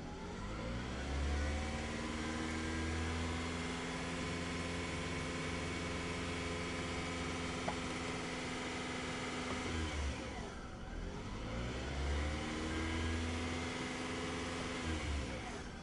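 A 2007 Toyota Camry Hybrid with 45,000 miles running steadily, its engine humming close and loud with two gentle swells in pitch, no voices over it.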